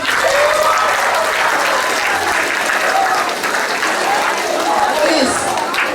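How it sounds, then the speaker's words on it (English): A school audience at a Republic Day assembly claps in sustained, loud applause that fills the whole stretch, with crowd noise and some voices mixed in. "a big round of applause not only for class teachers,"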